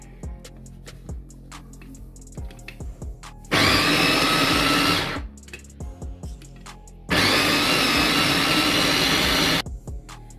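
An electric food chopper runs in two loud bursts of about one and a half and two and a half seconds, blitzing burger ingredients for a beef burger, with quieter clicks and handling noises before and between.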